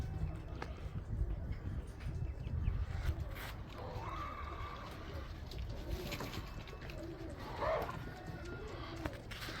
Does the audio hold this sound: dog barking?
no